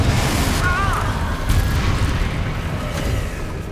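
Confringo blasting spell from Hogwarts Legacy, a deep booming explosion with a rumbling low roar over sustained battle noise, loud and close, with a faint whooshing tone.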